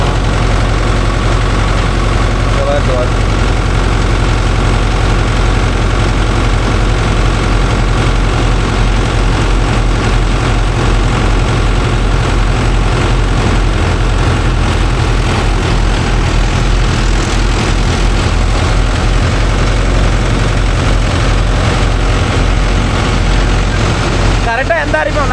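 A Mahindra tractor engine, a Yuvo Tech Plus 585 4WD or 575 DI hitched to a nine-tine cultivator, idles loud and close with a steady low rumble and vibration throughout, and voices are faintly audible beneath it.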